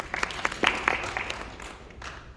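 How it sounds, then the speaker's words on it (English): A short round of applause from a conference audience, a burst of scattered clapping that swells and then thins out over a couple of seconds, moderately close with no talk over it. "Mark, round of applause for Mark."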